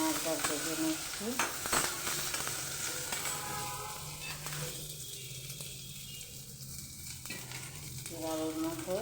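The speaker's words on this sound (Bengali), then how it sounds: "দেখুন আমি পেঁয়াজটা ভেজে নিচ্ছি।" Onions frying in hot oil in a home kitchen pan, a steady close sizzle and crackle running throughout with occasional stirring scrapes, a voice briefly heard at the start and end.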